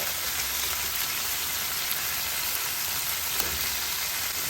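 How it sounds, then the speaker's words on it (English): A hamburger patty sizzles steadily in a pan, a dense continuous frying hiss with faint pops, close and alone with no talking. "It's time to flip it to the other side. See, it's cooking very well."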